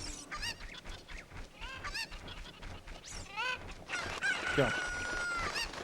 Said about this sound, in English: Grab the cuckoo.